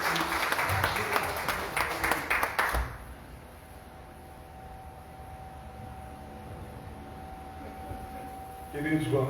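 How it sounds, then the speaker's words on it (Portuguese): Church congregation applauding for Jesus during a service, dense loud clapping for about three seconds that stops abruptly, leaving a quiet room hum before a voice begins. "uma salva de palmas para Jesus"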